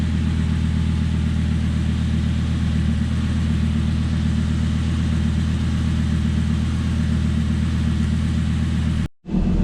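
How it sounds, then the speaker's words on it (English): Lamborghini Gallardo idling in a garage on its factory setup, a loud, steady low engine rumble holding an even rhythm with no revving, cutting out abruptly for a moment near the end. "So the car's been idling about 10 minutes now right here in the garage."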